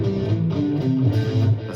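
A guitar plays a short run of single notes from a minor pentatonic scale, stepping through the pitches one after another, close and clear with no talking.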